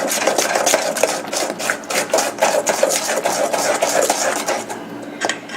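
An electric mixer blends cookie batter in a bowl, a close, busy whirring and scraping with repeated rhythmic clatter against the bowl, continuous and fairly loud.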